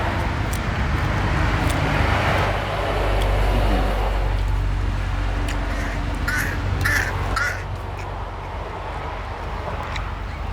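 A crow caws a few times at a roadside noodle stall in Nang Rong, Thailand. The short, harsh calls rise over steady traffic and street noise.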